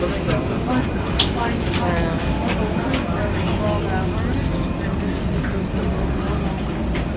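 Steady rumble and rattle of a metro train riding along in Frankfurt, with continuous mechanical noise and faint voices in the carriage.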